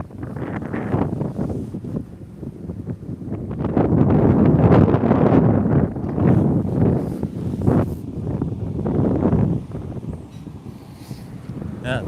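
Strong wind gusting in the Hollywood Hills during a fire, loud roaring buffeting that swells and eases, with heavy microphone wind noise throughout.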